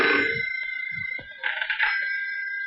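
A telephone bell rings steadily in a tense indoor scene from a Hindi action film, its repeated bright trill loud and close, with a few soft thuds and brief movement sounds underneath.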